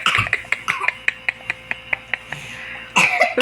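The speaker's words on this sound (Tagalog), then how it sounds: "You're coughing." Someone coughs in a home during a birthday gathering, with a string of short, sharp coughs near the start, then a steady series of light taps or clinks, and brief voices at the very end.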